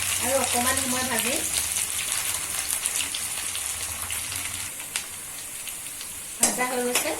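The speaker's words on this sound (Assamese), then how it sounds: "প্ৰথমতে আলুখিনি ভাজি লম।" Potato pieces fry in hot oil, giving a steady broadband sizzle that runs through the whole stretch, with a brief voice near the start and again near the end.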